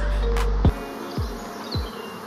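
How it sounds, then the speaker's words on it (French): A swarm of bees buzzes close by in a continuous drone on a forest trail, interrupted by a few dull thumps. "il y a des abeilles de partout"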